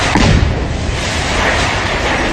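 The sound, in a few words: loud explosion of a house being blown up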